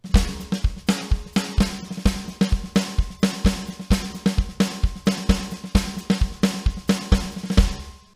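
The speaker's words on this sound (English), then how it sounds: "the main thing we're going to learn is the samba hand pattern" Samba hand pattern on a drum kit, a fast steady stream of close, punchy strokes with regular accents, played alone without talking.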